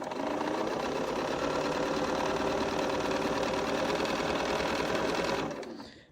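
A sewing machine runs steadily for about five seconds, stitching a cotton quilt fabric strip in place, its rapid even needle chatter close and continuous before it winds down and stops.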